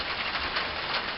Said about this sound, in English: We're actually getting freezing rain here.